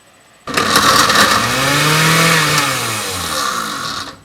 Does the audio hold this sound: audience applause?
no